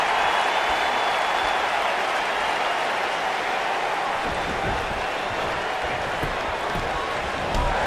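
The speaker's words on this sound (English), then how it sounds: "This capacity crowd is beside itself." Arena crowd in the wrestling video game WWE 2K19 roars and applauds in a continuous, dense wash of cheering, steady and fairly loud throughout with no clear talk over it.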